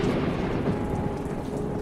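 Thunderstorm with steady heavy rain and low rumbling thunder, a dense continuous wash of rainfall on surfaces at a constant loud level with no voices.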